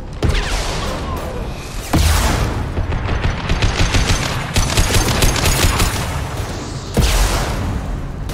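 Gunfire from the video game Mass Effect 2, on Illium, crackles in rapid, dense bursts, punctuated by a few heavy booming impacts, loud and sustained throughout.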